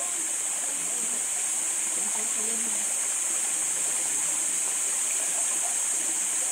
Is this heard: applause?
no